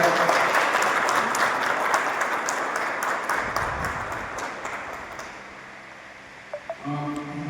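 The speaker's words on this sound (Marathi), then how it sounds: "जोरदार टाळ्या." A room of workshop participants breaks into loud applause for the chairman: a thick burst of clapping that gradually thins out over several seconds, ending in a few scattered claps and slight noise.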